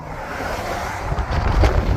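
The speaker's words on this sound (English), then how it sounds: "sorry about the wind" Wind buffets the microphone in a steady low rumble, growing rougher and louder toward the end, with a faint wash like open water behind it.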